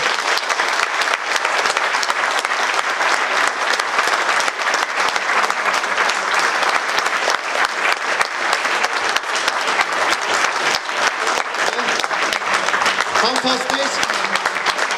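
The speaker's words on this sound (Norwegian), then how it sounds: "Og en varm applaus til de som gjør det mulig." Audience in a cinema hall at a cultural event keeps up long, steady applause, a thick continuous wash of clapping from start to finish.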